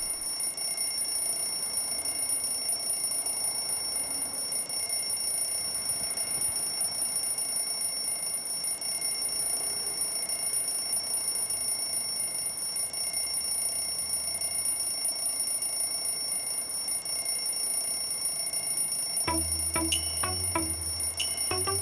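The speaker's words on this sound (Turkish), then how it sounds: "alarmı kapatsana neden bu saate kurdun ki?" An alarm clock rings steadily and continuously in a quiet bedroom, a constant high electronic tone repeating for a long stretch, with a faint thump of movement near the end.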